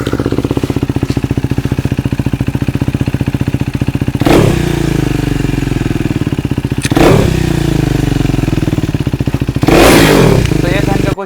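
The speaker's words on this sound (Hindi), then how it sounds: "तो आपको इस बाइक का एग्जॉस्ट का साउंड सुना देते।" A KTM Duke 390 motorcycle idles with a rapid, choppy single-cylinder thump, broken by three quick throttle blips spaced a few seconds apart, loud and close with no voices over the engine.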